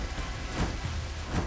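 Heavy rain pours down in a dense, unbroken roar, loud and close, with faint low rumbling beneath it.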